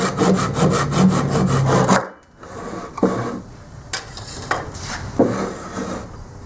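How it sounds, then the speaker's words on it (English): Tabs are cut off a wooden Christmas luminary with a saw, first a run of quick rhythmic strokes, then after a short pause slower, spaced rasping strokes, close and fairly loud with no talk. "And let's cut off the tabs now."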